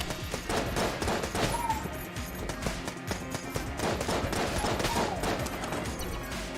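Rapid gunfire in a video game keeps crackling in dense bursts, loud and sustained throughout with little pause.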